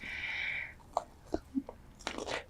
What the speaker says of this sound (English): This chicken is very crunchy.